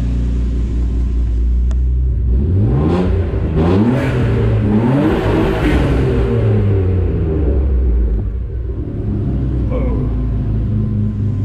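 A BMW 328i twin-turbo car engine revs and accelerates hard, a loud close rumble with rising and falling pitch sweeps, while people talk excitedly over it.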